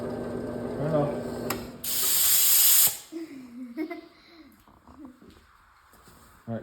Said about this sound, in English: You want to use your spray gun?